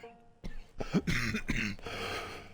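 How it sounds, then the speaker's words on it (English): A single muffled cough breaks out close by, followed by low background noise. "Pardon the cough."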